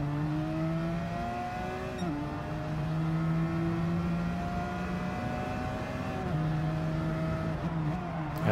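Simulated 2002 Dodge Viper GTS racing in Gran Turismo 7: a steady, loud engine drone holds high revs with a couple of abrupt pitch drops at gear shifts, continuous and alone without talk.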